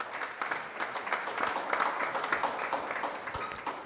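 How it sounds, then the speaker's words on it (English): A press conference audience for the Makers Wanted Bahamas Bowl claps in a brief, moderately loud round of applause, with individual claps standing out in a loose patter and a little murmur in the room. "give him a round of applause."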